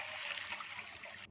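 Rice is rubbed and rinsed by hand in water, giving a soft, steady swishing and trickling that stays faint and close throughout, with no talking.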